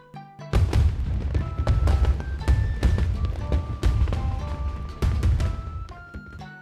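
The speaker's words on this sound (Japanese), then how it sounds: "わあ、綺麗な花火ですね。" Fireworks at a summer festival burst in a rapid series of booms and crackles, loud and close, with several overlapping explosions and ringing tails throughout.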